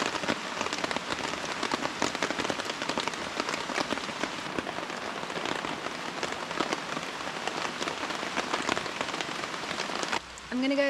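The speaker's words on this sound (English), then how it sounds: "It's raining! Finally!" Steady rain pours down on a jungle campsite at night, a dense, continuous patter of drops close by on surfaces, with a brief change in tone near the end.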